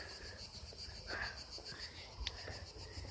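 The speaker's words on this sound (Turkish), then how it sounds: "Sesleri duyuyor musunuz cırcır böceklerinin arkadaşlar?" Crickets chirping in a forest, a faint steady trill heard over quiet outdoor background, with a few soft rustles and brief near noises.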